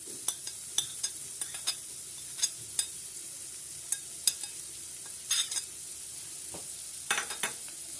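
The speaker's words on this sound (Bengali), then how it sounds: "এখন চিংড়ি মাছগুলো দিয়ে দেব।" Prawns are added to frying masala in a pan, giving a soft, steady sizzle under scattered sharp clicks and scrapes of a utensil against the pan, quiet and close.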